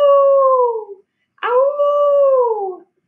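A voice imitates a wolf howling on a summer night in the far north, giving two long, loud, sustained howls with a falling pitch and a short silent gap between them.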